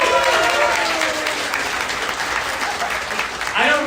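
A stand-up comedy audience bursts into loud, sustained applause filling the room, fading slightly before swelling again, with a voice speaking over the clapping near the end.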